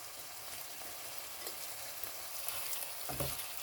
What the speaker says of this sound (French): on va mettre l'oignon, le poivron jaune que j'ai découpé en morceaux et le poivron rouge